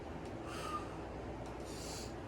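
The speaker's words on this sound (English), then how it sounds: "Let me get a quick sniff." A quick sniff of a fragrance, two short breathy inhalations through the nose close to the microphone, heard over a faint steady background hiss.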